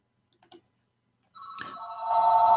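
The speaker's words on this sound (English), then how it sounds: "I know my phone not ringing in the middle of this broadcast." A phone rings during a live broadcast: a couple of brief faint clicks, a short pause, then a sustained electronic ringtone swelling in loudness toward the end, heard alone without talk.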